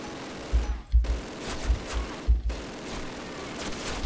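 Machine gun fire from an MG nest in the original Call of Duty campaign, heard as a series of irregular heavy low thumps and bursts, a few seconds apart, over a battlefield backdrop.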